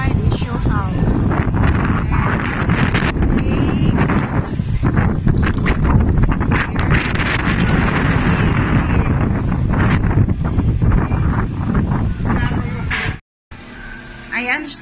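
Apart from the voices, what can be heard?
wind blowing on the microphone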